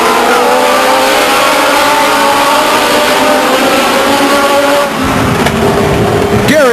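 Legends race cars at Stockton 99 Speedway roar past in a loud, sustained pack, engines droning and shifting pitch as they come through the final turn, with a brief dip before the noise surges again.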